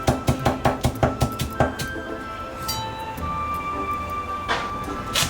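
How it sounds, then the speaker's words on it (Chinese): A kitchen knife minces thin slivers of fresh ginger on a cutting board in a quick run of about ten crisp, evenly spaced chops. A quieter clatter follows. "换个方向回来，剁成姜末。"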